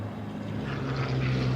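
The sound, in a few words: P-51 Mustang propeller aircraft flying at airshow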